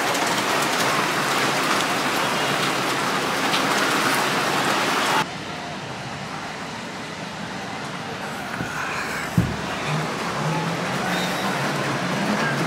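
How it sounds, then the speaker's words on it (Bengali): Rain falls steadily at a beach resort, a broad wash of drizzle and patter heard nearby that softens midway, with a brief thump near the end. "Look at this, it's raining."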